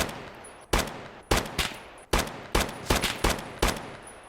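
Carbine shots ring out in the Escape from Tarkov video game, about ten loud, sharp cracks fired in quick irregular bursts, each with a short echoing tail and no voices.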